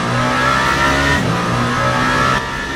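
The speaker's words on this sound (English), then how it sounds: "That is one of the Porsches up ahead." A Porsche race car engine in the Le Mans Ultimate sim at the 24 Hours of Le Mans, holding a loud, steady high-revving drone with a brief pitch dip and recovery as it passes through gears.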